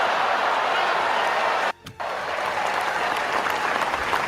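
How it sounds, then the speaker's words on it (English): A crowd at a Padres–Astros baseball game erupts into loud, sustained cheering and applause, broken by a brief dip in the middle before it swells back. "You hear the eruption from the crowd"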